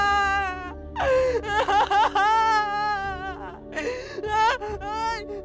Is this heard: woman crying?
yes